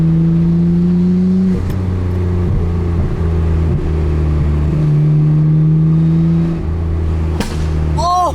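A Nissan R32 GT-R, right-hand drive, holds a steady droning engine note on the road, with a couple of sharp exhaust pops cracking through and a short rising rev at the end.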